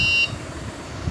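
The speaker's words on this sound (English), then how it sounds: "buzzer starts with a pause" A water level system's buzzer sounds a steady electronic tone briefly at the start, then cuts off into a pause with only low background hum remaining.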